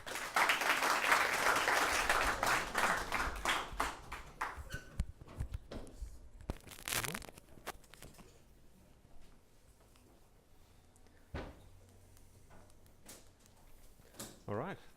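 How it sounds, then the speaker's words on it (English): A meetup audience applauds a speaker at a software talk, loud dense clapping for several seconds that thins into scattered claps and fades, followed by a voice talking in a quieter room. "Big round of applause, please,"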